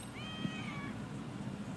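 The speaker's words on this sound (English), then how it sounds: "well, that was a cat." A cat in the video game Lost Judgment gives one short, clear meow with a falling pitch. It sits over a steady bed of low game ambience and is not heard again after the first second.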